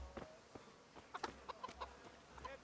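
A chicken clucks in the medieval video game Kingdom Come: Deliverance, a run of short, soft clucks spread across a couple of seconds over a low ambient hum, with no voices.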